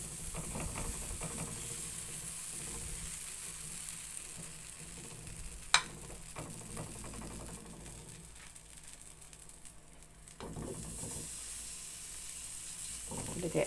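Spoonfuls of semolina harcha batter, made with corn, cheese and black olives, sizzle steadily on a hot pan, a continuous close frying hiss with a few sharp clicks and light utensil noises, no talking.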